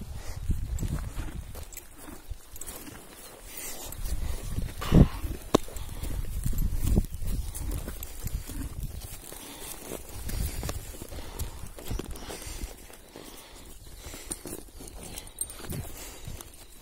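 A small but hardy horse walking at a steady pace, its hooves clip-clopping in an even rhythm close by, with occasional rustling and no talk.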